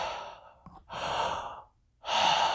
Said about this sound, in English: my belly is moving out on the inhale, and it's contracting on the exhale